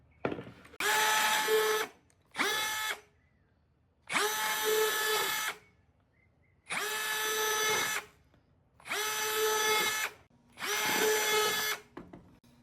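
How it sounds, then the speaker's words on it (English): A power drill whirs in six separate bursts drilling air holes in a plastic bin, each lasting one to two seconds with short pauses between, loud and close. "I'm going to drill air holes right in this area right here"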